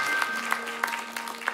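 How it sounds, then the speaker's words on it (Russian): Light scattered applause from a small audience at a poetry and song reading, a few sharp claps spaced out over a faint background hum. "поскольку вы аплодируете, я понимаю, что вам это интересно"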